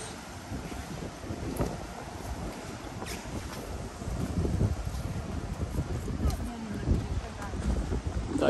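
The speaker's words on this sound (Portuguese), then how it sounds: "A brisa vindo do mar, você deve estar escutando aí pelo microfone, deve estar captando." Sea breeze buffeting an outdoor microphone beside an oceanfront avenue at a Guarapari beach, a steady broadband wind roar with low gusty rumbles that swell slightly louder in the second half, no talk.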